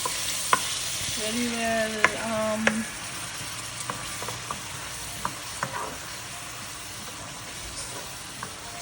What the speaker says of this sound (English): Then stir fry again until the onion all very